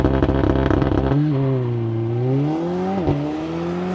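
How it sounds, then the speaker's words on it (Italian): A sports car engine revs with a harsh, loud burst, then drops into a smooth droning pull that climbs as the car accelerates and shifts once, close and with no talking. "Come sentite il motore è lo stesso, sound molto piacevole"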